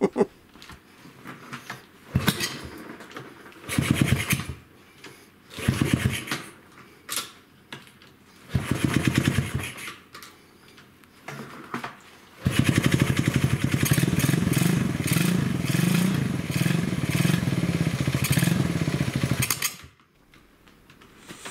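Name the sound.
attempting to kick-start a 125cc single-cylinder motorcycle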